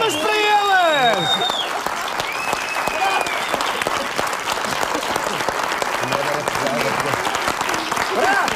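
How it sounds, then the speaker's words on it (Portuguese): Sustained applause from a crowd fills the scene, dense and steady, with a few whistles and voices rising over the clapping early on. "Uma salva de palmas para eles!"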